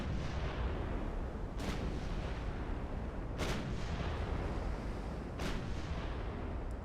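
Heavy naval gunfire from warships engaging a cruiser in the naval strategy game Ultimate Admiral Dreadnoughts, with three sharp booming salvos spaced about two seconds apart over a constant loud roar of battle noise.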